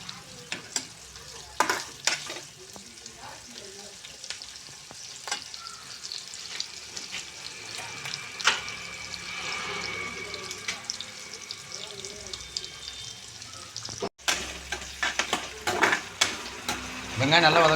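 Shallots sauté in a pan for a mutton curry with curry leaves and capsicum, making a continuous close sizzle with frequent stirring scrapes and occasional clinks.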